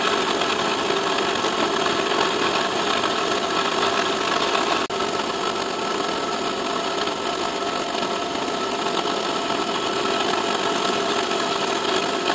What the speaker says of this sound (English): Now it's a case of just pocket this out, which I'm doing with a 5mm slot drill.